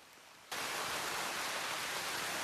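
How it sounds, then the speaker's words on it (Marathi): Heavy rain in a forest of tall trees starts abruptly and then holds as a loud, dense, steady hiss with no break. "लय बेकार पाऊस चालू आहे ना, लय बेकार"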